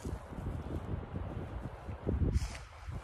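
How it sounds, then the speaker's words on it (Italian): Strong, cold Antarctic-like wind buffets the microphone outdoors at a large hillside fortress, a steady broadband rush with gusts swelling and easing, loud and close, with no talk. "È due giorni che c'è un vento antartico che ti porta via."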